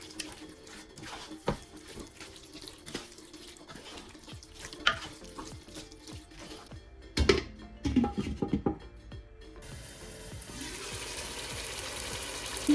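1.25 kg of boneless chicken is sautéed in a pan for Dindigul biryani: continuous soft sizzling under repeated stirring scrapes, with a few louder clatters of the utensil against the pan partway through and no talking.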